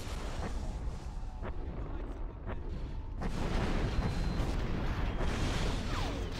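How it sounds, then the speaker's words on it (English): Video game gunfire: sharp broadband shots and booms recur through the mix, denser and louder in the second half, over a constant rumbling background with some voice activity. "Okay, I hear gunfire"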